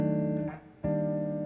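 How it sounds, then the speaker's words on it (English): A guitar strums a diminished major 7 chord that rings out, is briefly damped, then is struck again and sustains, played alone with no talking. "a diminished major 7, which sounds something like this"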